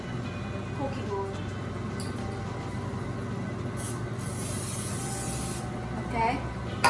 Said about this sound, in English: let me spray it with the cooking oil